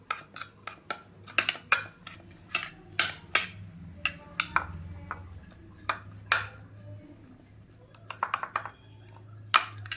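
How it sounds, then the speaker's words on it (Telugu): Masala ingredients stirred in a bowl for a boondi masala, with a spoon clinking sharply against the bowl in repeated, uneven strokes, some in quick bursts, close and clear over a low background hum. "దీన్ని మనం చక్కగా ఇట్లా మిక్స్ చేసేద్దాం."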